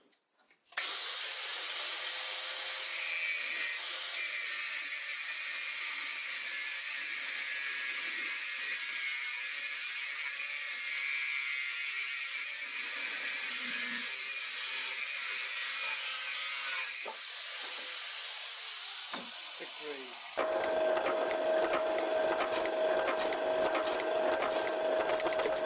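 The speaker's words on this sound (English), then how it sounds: "the angle grinder." An angle grinder cutting an old tractor part, a steady high-pitched whine and grinding hiss sustained for about twenty seconds before winding down, followed by a different humming tone.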